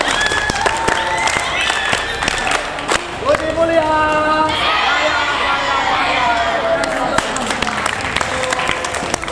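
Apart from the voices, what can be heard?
group clapping rhythmically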